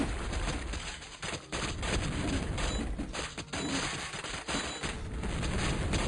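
Cannon battle in the video game Total Annihilation: Kingdoms, a dense, continuous barrage of loud booming blasts and crashing impacts that overlap with no pauses.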